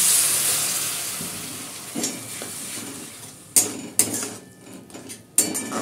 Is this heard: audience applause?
no